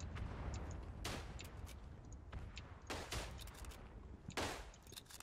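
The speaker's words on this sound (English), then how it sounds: "they're using artillery on us" Artillery fire in the WW1 game Verdun: a dull rumbling battlefield bed broken by three heavy shell blasts spaced a second or two apart, each a sharp crack with a rolling tail.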